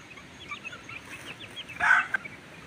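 A hen and her chicks peck at scattered feed, with soft clucks and brief chick peeps rising near the microphone and a slightly louder burst of calls late on.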